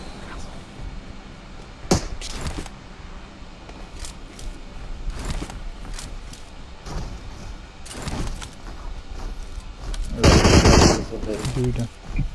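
Guns fire from a robot in a video game, heard as scattered bursts of gunfire over continuous game noise. A louder, denser burst comes near the end, and a voice can be heard now and then.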